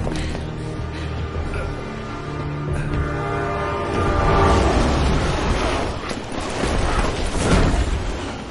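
A train ride in the video game Resident Evil 6 produces a loud, rumbling rail roar with rising and falling mechanical clatter, tonal horn-like whines and heavy rattling swells.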